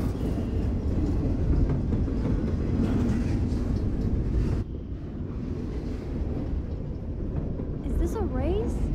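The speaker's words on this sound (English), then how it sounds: "The train." A train rolls past with a steady, loud rumble and wind-like rush in the video game Life is Strange, dropping slightly midway, with a rising squeal near the end.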